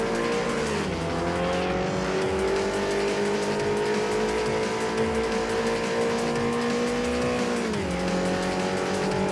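A Renault Megane Cup race car in Forza Motorsport 4 at Circuit de Catalunya screams at high revs with a constant loud engine whine, dipping briefly at gear changes while tyre squeal runs underneath.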